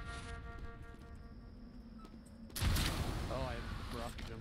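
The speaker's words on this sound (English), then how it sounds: "Oh, I rocket jumped in so long." A rocket jump explosion in Team Fortress 2, a sudden loud boom that cuts in partway through after quieter game sounds and leaves a sustained roar.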